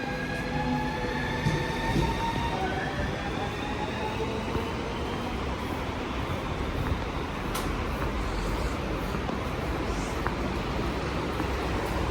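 A local commuter train in Moscow, Russia rumbles steadily with rolling wheel noise and faint high squeals, heard from on board, with no talking.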